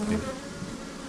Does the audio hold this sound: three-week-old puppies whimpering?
no